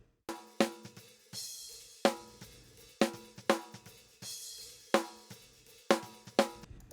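Unprocessed snare drum from a hip hop track, playing alone in a steady, programmed-sounding pattern of sharp, bright hits with short decays, about a dozen strikes over seven seconds.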